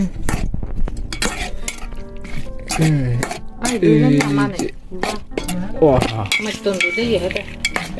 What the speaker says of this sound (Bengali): সমস্ত আমি হাতে নিলাম আর একটু মেখে নিই আমি ভালোভাবে